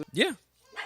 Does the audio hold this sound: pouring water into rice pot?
no